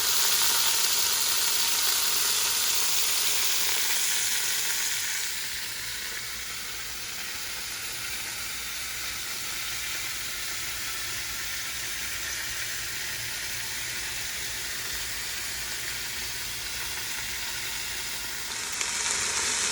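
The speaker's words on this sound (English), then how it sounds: "we have started sauteing the vegetables, the aromatics for our pot roast" Vegetables and aromatics sauté in the pork fond of a Sunday pork pot roast, giving a steady, close frying sizzle throughout. A brighter burst of hiss comes at the start, then a softer constant crackle, with no voices.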